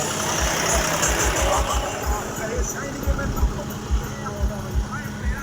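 A tractor engine runs steadily beside a flooding river embankment, a low, rhythmic chugging thump under a broad mechanical rumble.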